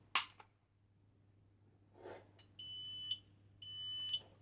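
A Finsécur Celtic-BAAS fire alarm panel, set off from a manual call point, gives two sustained electronic beeps, each about half a second, after a sharp click and some faint handling noise. It is fairly quiet and close.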